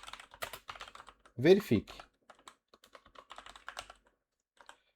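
Computer keyboard typing during programming work, scattered bursts of sharp clicks and key taps fairly close up, with a short spoken word in the middle.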